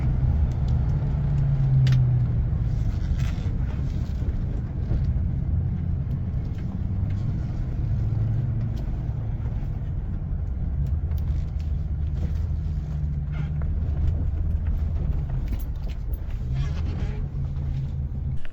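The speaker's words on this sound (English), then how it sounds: "I'm going to jump in the truck here, head over to Sports Fab" A truck drives along the road with a steady low engine rumble and road noise from inside the cab, continuous and even throughout.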